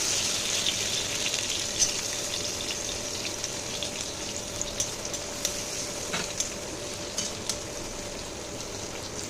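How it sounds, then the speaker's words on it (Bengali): Nuts that were rinsed in water fry lightly in hot ghee in a pan, making a soft, continuous sizzle with scattered tiny pops that stays faint and even throughout. "ঘিটা গরম হয়ে গেছে বাদামগুলো আমি একটু ভেজে নেব"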